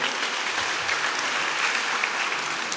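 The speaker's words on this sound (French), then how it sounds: "Vous pouvez aussi vous applaudir très très fort." A congregation at a Sunday Mass applauds loudly and steadily, a dense even wash of clapping from many hands with no break throughout.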